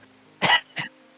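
A voice imitates someone coughing up smoke, two short rough cough bursts, the first longer and louder, close and alone.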